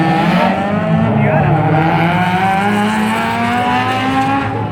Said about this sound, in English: So the Miata pulled and the Civic managed to pull back.